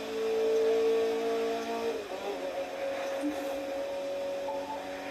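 A Mazda Miata at about 140 speeds up, its engine holding a steady, loud, rising whine over heavy road and wind roar from inside the cabin, with no talking.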